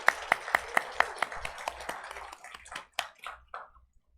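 A church congregation claps for the choir and teachers at a worship service, a quick run of sharp, evenly spaced claps that loosens and fades into scattered hand claps over a few seconds.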